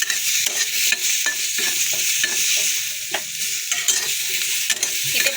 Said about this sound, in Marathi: इथे आपण टमाटर टाकणार आहे टमाटर हे छान असं परतून घ्यायचं आहे